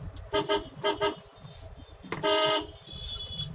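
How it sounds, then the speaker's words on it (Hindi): A car horn honks in quick short toots, two pairs and then one longer blast, over distant traffic noise on a road in Punjab. "यहाँ ऐसे हॉर्न मार मार के निकलना पड़ता है"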